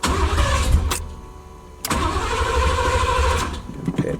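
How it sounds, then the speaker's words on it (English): A Chevy box car engine cranks and catches, running with a steady loud rumble that pauses briefly before continuing; no talking. "Try to crank it one more time."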